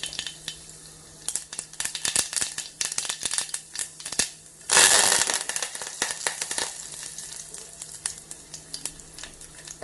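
Mustard seeds and urad dal sizzle and crackle in hot oil in a single pot, a steady close frying hiss with scattered pops that swells into a loud burst of sizzling midway, then settles back to crackling.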